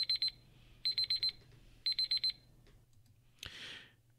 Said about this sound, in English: I think you know what that means when you hear that beep.